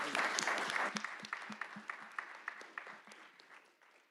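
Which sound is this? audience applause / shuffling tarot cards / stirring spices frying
audience applause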